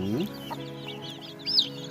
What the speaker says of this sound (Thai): ลูกไก่ชุดนี้นะครับก็ได้ลูกไก่ป่ามาฟักด้วยนะครับ